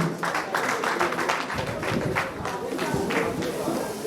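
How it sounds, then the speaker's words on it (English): Audience applause at an alumni association annual general meeting, a dense steady clapping from a crowd that continues throughout, with some voices mixed in. "A round of applause."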